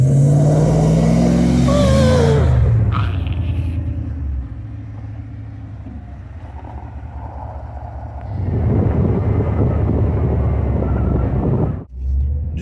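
A 2wd OBS pickup truck rolls downhill on snowy roads toward a stop, its engine rumbling loudly and steadily, easing off briefly mid-clip before building again and cutting out near the end.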